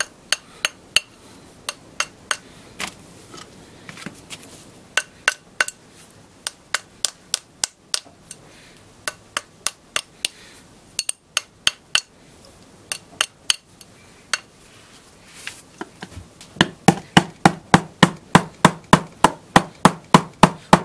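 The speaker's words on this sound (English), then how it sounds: "I'm going to take my mallet, my nylon mallet here, and just slowly start tapping on this and working it down on the mandrel" Repeated sharp taps of a nylon mallet on a metal coin ring being worked down a mandrel over a wooden surface, steady rhythmic strikes at close range that quicken and grow denser toward the end, with no talking.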